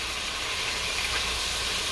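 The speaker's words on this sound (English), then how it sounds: "I'm going to cook these up for a couple minutes, sear them" BBQ ribs sear in a Dutch oven with a steady, even hiss that holds at one level throughout, broadband and close, with no voice over it.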